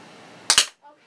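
Two quick sharp pops from a gas-powered toy gun fired outdoors, loud and close, followed by brief quiet.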